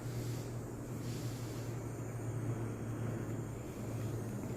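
A gas torch flame roars steadily at close range while heating solder on a wire connection, a continuous low hiss and rush with a faint hum beneath and a brief dip near the end.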